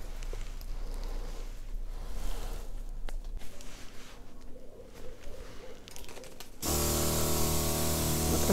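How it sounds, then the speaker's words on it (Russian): A pump sprayer misting citrus plants against spider mites on an evening garden, a steady close hiss of spray with faint background sounds, turning louder and broader near the end. "Распыляет он хорошо, растения можно достать далеко"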